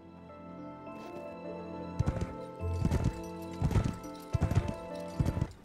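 Horse hooves clip-clop in the Heroes 6 video game as a horse is brought up slowly, steady clusters of clattering hoof strikes repeating at a moderate pace over a low background score, with occasional whinny-like tones.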